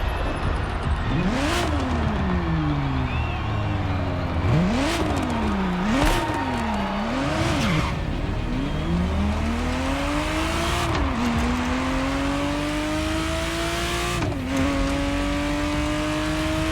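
A Ferrari Testarossa in the racing game The Crew Motorfest revs hard and climbs through gears repeatedly, its engine note rising and dropping with each shift, loud and continuous throughout.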